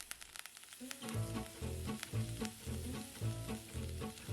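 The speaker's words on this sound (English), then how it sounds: "Sear them until the edges turn golden brown and they lift off the pan easily." Scallops sear in a pan with thyme and melting butter, giving a steady close sizzle with spitting crackles, preceded by a few light taps, no voices.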